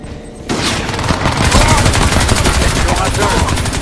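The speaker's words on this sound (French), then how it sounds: "tire de suppression" Suppressing gunfire in the video game Crysis 2 starts suddenly and keeps going as dense, loud, rapid automatic shots with booming reports, continuous to the end.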